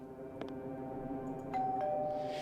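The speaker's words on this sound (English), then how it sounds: "I pressed the doorbell." A doorbell in the video game Dissolving, pressed at an old hall, gives two faint, brief rings over a droning doom-metal background, followed by a sustained high tone.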